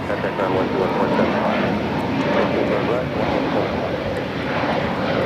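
A Volaris Airbus A320neo takes off at LAX bound for Guadalajara, its engines a loud, steady roar with no break, heard under continuous radio-style talk.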